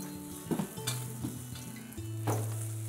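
Rice and leek sautéing in a pan for a beet risotto, a steady sizzle and fry with a few scraping stir strokes and light clinks of a utensil, close and continuous with no talk.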